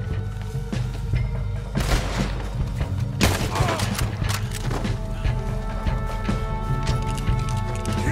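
Gunfire during an escape from Guarma in Red Dead Redemption 2, scattered loud shots and heavy booms cracking over a busy battle din, with intermittent hoofbeats and shouting voices mixed in.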